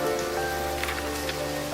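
Steady rain falling on a surface during a wet September, a dense even hiss of drops that stays constant throughout with no voices.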